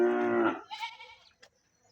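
Goats calling on a Punjabi village farm, one long loud bleat up close followed by a fainter, wavering second call and a brief short cry.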